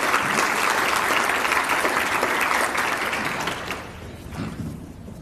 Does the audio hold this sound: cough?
no